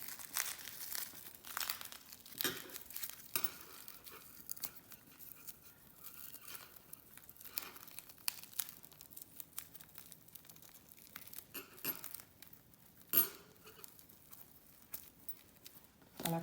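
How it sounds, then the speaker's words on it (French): Aluminium foil is rolled and crinkled around a homemade salami-style mortadella: a close, soft, continuous crackling and rustling with scattered sharper crinkles. "je viens prendre mon papier d'aluminium et je viens à nouveau rouler"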